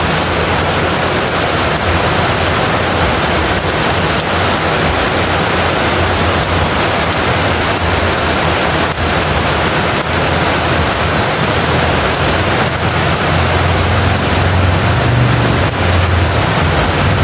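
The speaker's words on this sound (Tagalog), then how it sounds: "Grabe, lakas ng ulan." Heavy rain pours down in a loud, dense, unbroken roar that holds steady throughout, with no one speaking.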